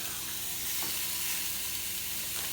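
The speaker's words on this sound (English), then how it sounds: "so we're going to get these searing up" Beef short ribs sear in a Ninja Foodi Grill, giving off a continuous, even sizzle and frying hiss at close range, with no break in the sound.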